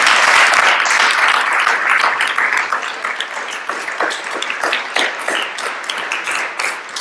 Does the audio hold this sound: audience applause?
yes